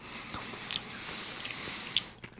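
Close, soft chewing of food in one person's mouth, a steady run of moist squishing and small biting sounds over a few seconds, with no talk.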